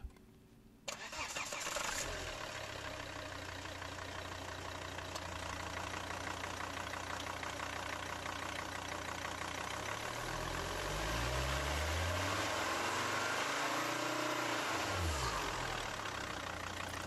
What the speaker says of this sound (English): now you're going to see how much better the VNT responds now through revving, just from having a hot engine